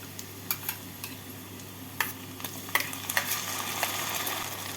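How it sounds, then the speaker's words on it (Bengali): Onion, ginger, garlic and green chili paste frying in a pan for a Maharani chicken dish, a steady sizzle with scattered clicks and scrapes from stirring. "এই মশলাটাকে এক মিনিট মতো পেঁয়াজের সাথে নাড়াচাড়া করে নেব"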